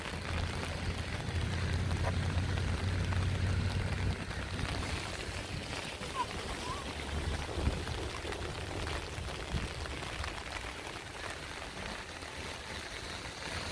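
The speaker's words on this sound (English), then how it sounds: "Rainy day on the beach." Rain drumming steadily on an umbrella held on a beach in Biloxi, a continuous close patter that is heavier in the first few seconds, then eases to a constant hiss.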